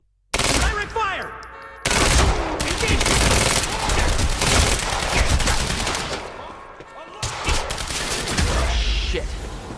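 Sustained automatic gunfire in the Quantum Break video game, a fight in an R&D facility garage, with dense, loud bursts of rapid shots that continue almost without pause after a brief gap near the start.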